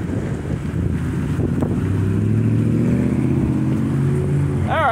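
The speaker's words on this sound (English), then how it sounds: "kind of windy, so I gotta hold it" Outdoor wind buffets the microphone in heavy low gusts, a constant blustery rumble, with a steady engine-like drone beneath it and a brief rising whine near the end.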